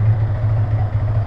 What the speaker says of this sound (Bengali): আর এর ইঞ্জিন সাউন্ডটা কিন্তু আপনারা শুনতে পাচ্ছেন